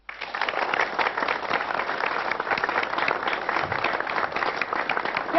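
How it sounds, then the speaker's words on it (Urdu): A studio audience at a Pakistani television talk show breaks into brisk, sustained clapping, a full steady burst of applause lasting several seconds. "کیا تالیاں, یہ تالیاں کس لیے؟"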